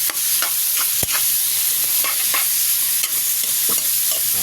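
Pork sautéing in a pan, a steady loud sizzle with the scrape and clack of a spatula stirring and tossing the meat at irregular intervals, no voices.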